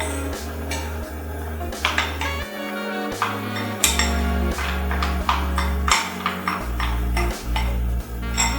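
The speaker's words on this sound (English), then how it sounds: "But just gently keep stirring." A utensil stirring chicken stock into peanut sauce in a pan, producing steady, rhythmic clinks and scrapes against the metal, close and clear over a low continuous background tone.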